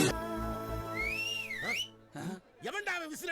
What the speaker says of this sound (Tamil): எவன்டா அவன் விசில் அடிச்சது?